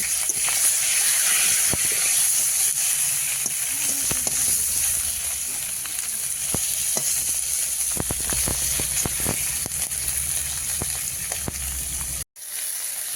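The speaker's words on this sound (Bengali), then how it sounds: "মাছ ভাজা কিন্তু চলছে" Steady, loud sizzle of spiced bele fish frying in hot oil, with scattered pops and crackles throughout and a brief cut near the end.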